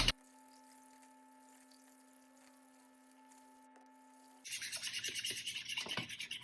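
A fork whisks raw eggs in a bowl, a quick rhythmic scraping and clicking that starts abruptly after several seconds of near silence with a faint hum, close and moderately loud.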